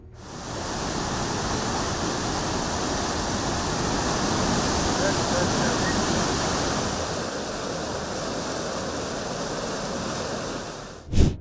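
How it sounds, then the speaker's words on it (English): Flash-flood water in Laos roars steadily and loudly for several seconds, a dense churning wash without pause, ending with a brief louder burst. "This is a flood in Laos in 2021. It caused hundreds of cattle to be swept away like this."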